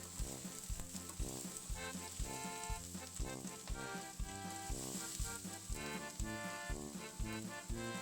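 Diced onion and potatoes frying at low heat in a pan give a steady, close sizzle with a faint rhythmic pulsing throughout, no voices over it.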